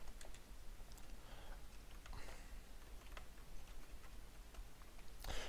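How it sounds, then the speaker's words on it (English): Quiet typing on a Swedish computer keyboard, steady soft key clicks and ticks over a low hum, with a louder burst of keystrokes near the end. "I'm on a Swedish keyboard"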